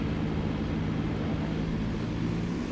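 Aircraft engine run-up in a flight simulator game, a loud, steady, unbroken propeller drone with a deep low hum throughout.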